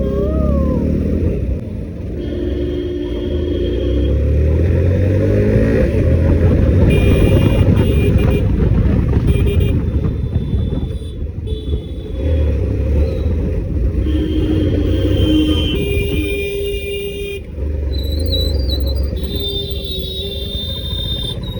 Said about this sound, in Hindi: भाई रेस लगा रहे हैं।